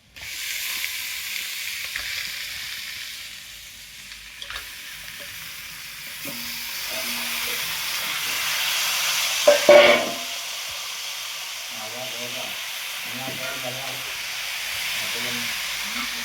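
Chicken pieces with chillies hit a hot pan and fry in a loud, steady sizzle and hiss, with stirring scrapes and a brief flare of louder spitting midway, continuing under faint background voice.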